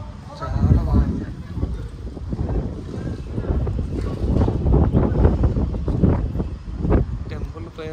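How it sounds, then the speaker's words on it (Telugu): Cool wind blows steadily across the microphone at the Sri Jagannatha Temple in Bollaram, a broad rumbling gust noise that swells and eases throughout, with people talking over it. "టెంపుల్ ప్లేస్ చల్ల గాలి అయితే అసలు ఎక్సలెంట్."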